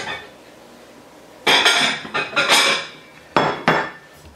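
Herbs for roasted chicken being ground in short bursts, several loud gritty grinding and clinking pulses separated by brief pauses, close up and without speech.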